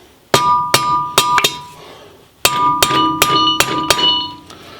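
A hammer handle tapping a differential bearing race into a Pontiac 9.3 third member, two bursts of sharp metallic taps with ringing, four or five strikes each, close and loud.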